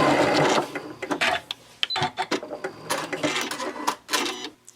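A sewing machine backstitches along the seam of a fabric pouch, running in short mechanical bursts with brief pauses as it reverses direction, close and clear with no talking.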